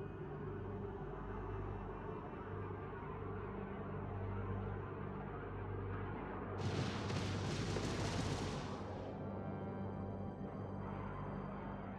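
Incoming artillery rounds in the space strategy game Homeworld 3 arrive as a rumbling, bright burst of explosive impacts about two seconds long over a constant low engine drone.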